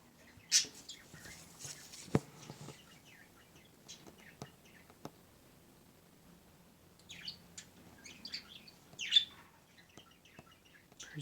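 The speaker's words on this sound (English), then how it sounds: "Birds are getting restless." Pet birds kept indoors give faint, scattered chirps and tweets, with a couple of sharper calls early and a busier cluster near the end, over quiet room noise and light tapping.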